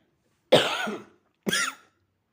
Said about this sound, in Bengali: সরি, আমার একটু কাশি হয়েছে,